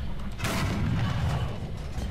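Tank cannon fire in a ground-forces combat video game: one loud, close broadband blast about half a second in, then a sustained rumbling tail over a steady low engine drone.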